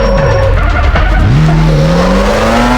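Car in the racing game CarX Street, loud engine revving with the pitch dropping and climbing through gear changes, and tires squealing in a brief skid, close and continuous.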